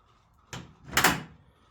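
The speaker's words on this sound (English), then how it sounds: "The original latch for the door." The original latch on a VW GT Beetle door gives two quick close mechanical clicks in a quiet room, a short click and then a brighter, louder snap.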